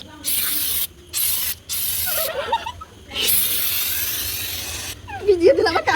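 Water sprays in bursts at a birthday celebration, several loud hissing blasts broken by short pauses, with voices shouting and laughing over the spray near the end.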